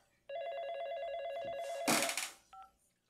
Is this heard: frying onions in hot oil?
no